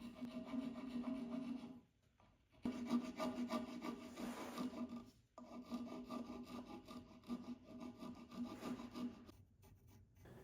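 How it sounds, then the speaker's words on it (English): Steel rasp filing and shaping a life-sized wooden swan carving, a steady rough back-and-forth scraping in long strokes with two short pauses, close and alone. "I broke out the rasps to shape some areas with a little bit more precision."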